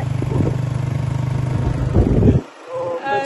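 A motorcycle carrying four riders hums along with a steady, close engine drone that swells briefly and then drops away sharply near the end.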